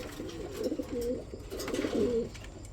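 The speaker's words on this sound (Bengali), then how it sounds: "এটা হচ্ছে লাহোরি কবুতর, স্প্যাঞ্জেল কালারের মধ্যে" Caged Lahori pigeons of spangle colour cooing nearby, two soft rolling coos in a row over a quiet background with no talking.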